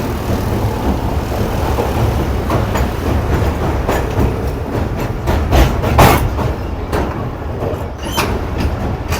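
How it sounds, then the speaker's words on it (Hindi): Train slowing as it crosses a bridge on the Mirpurkhas to Karachi line, a loud steady rumble with repeated clattering wheel-on-rail knocks close by. "ट्रेन इस ब्रिज के अंदर ही स्लो हो गई है, स्पीड डाउन हो गई है।"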